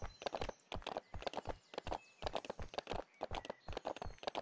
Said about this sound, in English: I get to lead my horse around.